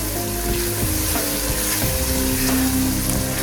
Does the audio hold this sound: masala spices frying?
yes